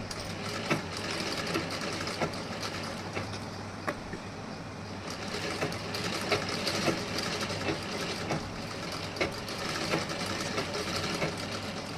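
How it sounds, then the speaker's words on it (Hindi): Sewing machine stitching along folded blouse fabric, a steady continuous mechanical hum with a low drone running the whole time, faint ticks on top, moderately loud and close. "मोड़ने के बाद ऐसे हमें सिलाई लगा के जाना है"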